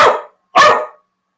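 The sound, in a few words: dog barking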